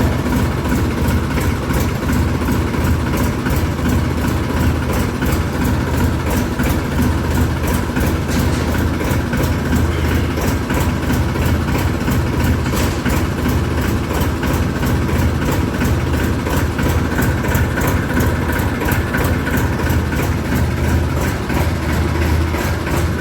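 A heavy diesel tractor engine idles cold after first start in two days, with a rough, rapid knocking chug, loud and close, running steadily without change.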